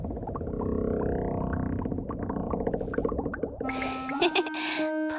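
A cartoon fart sound effect in a kids' show comes as a long, wobbly, low gurgling blurt, followed by brighter squeaky effect sounds at the end.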